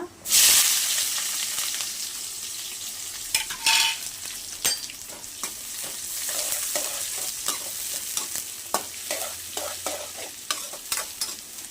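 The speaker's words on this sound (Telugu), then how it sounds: "ఆయిల్ వేసుకొని ఆవాలు వేసుకోవాలా. ఆవాలు, ఒక పెద్ద సైజు ఎర్రగడ్డ" Mustard seeds and a large onion fry in oil for chicken curry. A loud burst of sizzling is followed by constant hissing frying and a string of sharp crackles and pops, all close.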